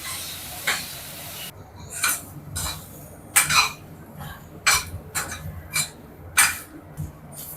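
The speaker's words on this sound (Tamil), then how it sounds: "நல்லா வதங்கட்டும்." Bitter gourd sautéing in a pan for a thokku, with a faint steady sizzle broken by repeated sharp scrapes and clinks as the pieces are stirred.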